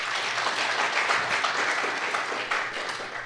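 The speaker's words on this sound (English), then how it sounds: "I invite you all to please applaud them." An audience at a staged Upanishad dialogue performance fills the hall with loud, full applause for the cast, a thick unbroken roar of clapping.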